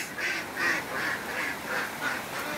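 Ducks on a duck farm quack steadily in a rhythmic series of nasal calls, fairly close and clear against a quiet background.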